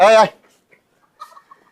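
Fayoumi hens kept on a farm give one loud, short squawk, followed by a few faint, scattered clucks in a quiet setting.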